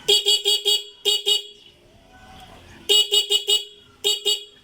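Loud, close motorcycle horn honking in rapid bursts of short beeps, a pause with faint mechanical noise, then two more quick runs of beeps, after the horn relay was repaired.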